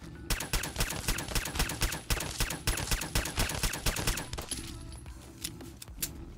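A modded .22 pistol in the Fallout 4 video game fires rapid, sharp repeated shots at Deathclaws, a dense rattling volley that thins into a few scattered cracks near the end.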